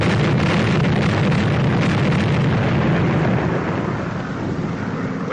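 Bomb explosion at a test bombing site in the 1943 film Sherlock Holmes and the Secret Weapon: a loud, sustained roaring blast with deep rumble filling the whole stretch and easing off slightly near the end, no speech.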